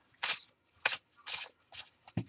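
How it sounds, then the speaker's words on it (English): A mixed pile of paper envelopes is shuffled by hand, giving five quick, crisp papery swishes and slides with short gaps between them, close and fairly quiet. "And I just shuffle until one falls out."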